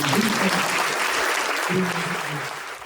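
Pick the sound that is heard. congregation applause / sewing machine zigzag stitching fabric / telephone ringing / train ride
congregation applause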